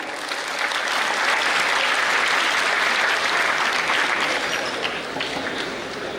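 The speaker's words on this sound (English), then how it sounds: "Please give them a big round of applause." A large audience at a university orientation program claps steadily and loudly for several seconds, a dense, even roar of applause with no voices standing out.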